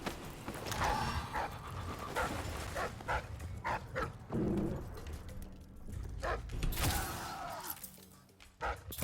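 A dog in the video game Death of the Outsider pants in quick, rhythmic bursts of breath at moderate distance, fairly quiet amid the game's ambience.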